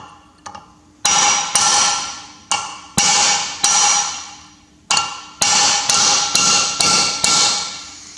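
A hammer strikes a solid pin on the diff lock shaft of an MF135 six-speed tractor, ringing out in about a dozen sharp metallic blows, some in quick pairs, with short pauses between them.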